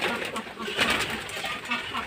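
Several pigeons drinking water in 42-degree heat coo in a steady low chorus close by, with a person's voice talking over them.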